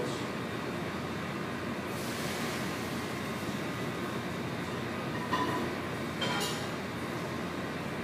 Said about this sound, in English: I'm going to drain the noodles